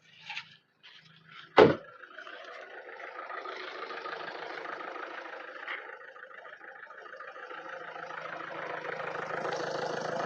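A 2012 Nissan Micra XV diesel engine idles at a steady, moderately close rumble after a brief sharp knock at the start, with no one speaking over it.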